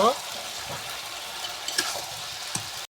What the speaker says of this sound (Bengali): ভাজিটা এখন আমি লাল লাল করে ভেজে নিব